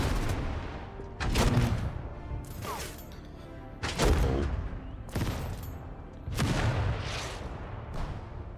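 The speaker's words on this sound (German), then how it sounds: "Panzerabwehr schießt auf Infanterie im Wald." Anti-tank guns in the strategy video game Total Tank Generals firing at infantry in a forest: five or six loud, sharp blasts spaced about a second apart, each with a booming tail, close and unaccompanied by talk.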